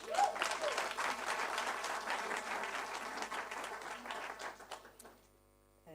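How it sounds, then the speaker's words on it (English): A book-launch audience claps in a steady round of applause that runs for about five seconds and then stops abruptly, leaving a quiet hum. "A big round of applause"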